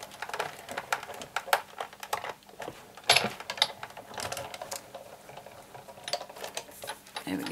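Paper and card rolled through a manual die-cutting machine while making an owl sticky-note holder, giving a run of close, irregular clicking and ratcheting crank sounds with short scraping bursts.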